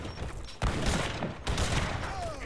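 Organ guns fire in an Age of Empires III battle, with crackling volleys of many shots bursting in two waves over a busy background din.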